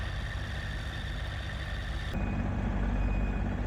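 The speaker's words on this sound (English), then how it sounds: "I ended up pushing the van forward by putting the corner of the tractor bucket into the hitch receiver." A tractor with its bucket corner set in the hitch receiver of an old van, pushing it forward: a steady low diesel engine drone, close and continuous, that grows slightly heavier and rougher partway through with no voices.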